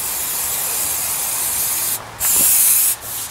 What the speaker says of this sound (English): I want to go over it with a bit of brake cleaner just to clean any residual dust off.